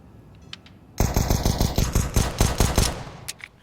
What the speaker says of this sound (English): Deagle on Zaiwu, P250 on Apex. They trade pistols in this game.